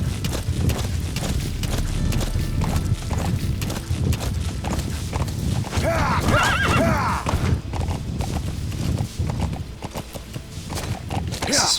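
A horse in Metal Gear Solid V: The Phantom Pain, set in Afghanistan, trots with steady rhythmic clip-clop hoofbeats close by and neighs partway through, with game sounds and faint talk around it.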